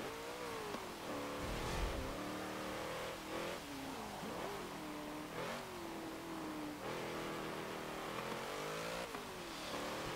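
A 1985 Nissan Safari Turbo in Forza Motorsport 7 revs hard, rising and falling through gear changes with a throaty turbocharged engine note, sustained and close throughout.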